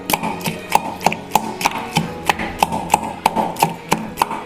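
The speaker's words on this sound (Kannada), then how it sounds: "ನೋಡಿ ಯಾವ ರೀತಿ ಇದೇ ಥರ ಲೋಟದಲ್ಲೇ ಕುಟ್ಕೊಂಡ್ಬಿಡ್ಬೋದು ಸ್ನೇಹಿತರೆ" Okra chutney is pounded inside a tumbler in a quick, even rhythm of about three sharp thuds per second, close and clear, with no speech.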